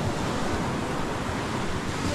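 Big ocean waves crash and churn on a shore in a steady, loud roar of surf with rushing wind noise, close to the microphone and unbroken for the whole short stretch.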